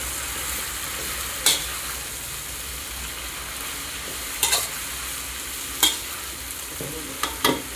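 Shredded cabbage frying with tomato and crisp fried onions in a pan, a steady sizzle broken by a few sharp scrapes of a spatula stirring, close and without talk.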